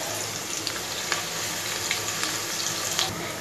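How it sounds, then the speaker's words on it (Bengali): Chopped onion and crushed garlic frying in hot oil in a pan, giving a steady close sizzle and crackle with a few small pops and no voices. "একটি পাত্রে পরিমাণ মতো তেল গরম করে নিয়ে আমি তাতে দিয়ে দিচ্ছি একটি বড় সাইজের পেঁয়াজ কুচি আর একটি ছোট সাইজের থেতে নেওয়া রসুন।"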